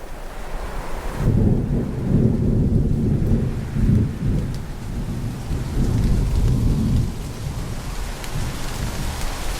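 Heavy cartoon rainstorm with rolling thunder, a dense steady downpour that swells into several deep, loud rumbles, with no voices over it.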